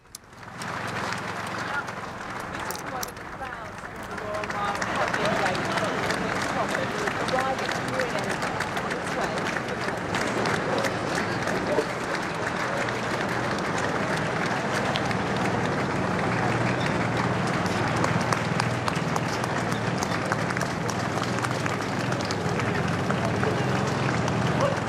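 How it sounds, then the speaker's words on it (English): Steady applause rises from crowds lining the streets as Queen Elizabeth's funeral cortege passes from Balmoral toward Edinburgh, a continuous outdoor wash of clapping with commentary voices over it. "There's certainly applause happening"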